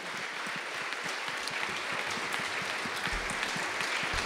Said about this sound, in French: On peut applaudir l'ensemble de ces frères et sœurs.